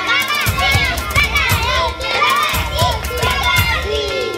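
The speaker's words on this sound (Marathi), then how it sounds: "बाकीच्यांनी चीअर अप करायचंय आपापल्या खेळाडूला" Schoolchildren at a school activity game cheering and shouting for their players, a loud close crowd of excited young voices with rhythmic rising yells.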